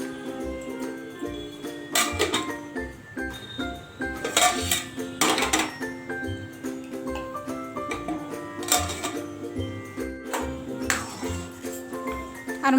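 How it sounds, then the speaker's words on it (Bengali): A cooking pot of rice is set onto a kitchen stove, with repeated metallic clanks and clinks of pots and utensils over a quiet kitchen background, sometimes alone and sometimes overlapping. "এখন তারপরে এই যে ভাত চাপিয়ে দিলাম উনানে"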